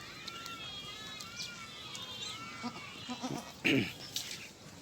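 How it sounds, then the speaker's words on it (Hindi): Goats bleating at a Pakistani farm or market, a few short wavering calls rising over a noisy outdoor background, moderately near and fairly faint. "ये माशाल्लाह बकरी है, उसके बाद ये छोटी बकरी है इसकी, और ये हो गया बकरा।"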